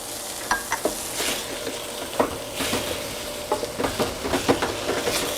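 Red kale sizzling in a hot pan while being stirred, with repeated scraping and clattering strokes over a steady fry, close and fairly quiet.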